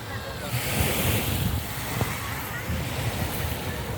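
Rough sea surf breaks and washes on a crowded beach in Budva, Montenegro, a continuous loud roar with heavy wind buffeting the microphone.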